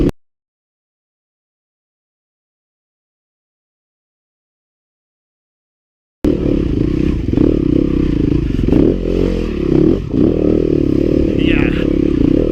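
A Yamaha YZ250FX dirt bike engine drones loudly and close while riding off-road, with clattering and scraping throughout and a rider talking over it, after several seconds of silence.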